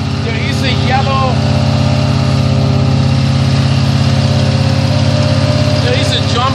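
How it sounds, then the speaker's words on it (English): Engine on an Amtex Marine 4047 APO unit running loud and close, a steady droning rumble holding high revs throughout, with faint voices in the background. "We're going to go ahead and rev the engine up to about 2900."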